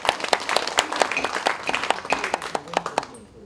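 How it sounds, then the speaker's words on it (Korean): A small crowd at the founding general assembly of a basic-jobs forum claps to approve a motion, with sharp separate hand claps at a brisk uneven pace that thin out and fade near the end. "박수로 통과해 주시기 바랍니다"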